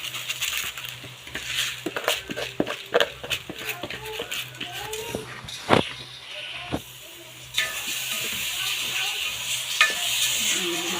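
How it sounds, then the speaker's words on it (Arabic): Basmati rice poured into a pot of onions and stirred, with close scraping and rustling stirs, scattered grainy clicks and a steady sizzle underneath, and brief voices now and then. "ننزل بقى الرز كده"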